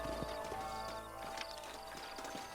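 Horse hooves clip-clopping in Red Dead Redemption as riders move up a canyon toward a fort, a steady rhythmic trot at moderate volume over a low game ambience and music bed.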